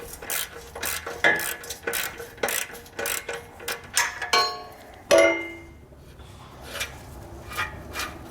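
Metallic ratcheting and clicking while a bumper bolt is worked loose from the frame of a 2013 Jeep, close up, in irregular bursts of short strokes separated by brief pauses, with a few louder clanks.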